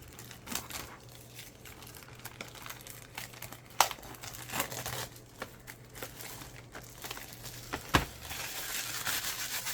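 Thin plastic wrapping crinkles and crackles as it is peeled off a watercolor swatch, quiet and close, with scattered sharp crackles and a couple of louder snaps.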